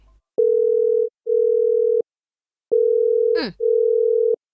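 Telephone ringback tone on an incoming call: four steady beeping tones in two pairs with short gaps, loud and close, one briefly overlapped by a quick sweeping chirp.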